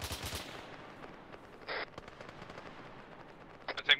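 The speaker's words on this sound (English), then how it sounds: "I think they might have fired at us." Gunfire in the ArmA 3 military game: a short rapid volley at the start, then a single sharp report and a few more shots near the end, all fairly distant and faint.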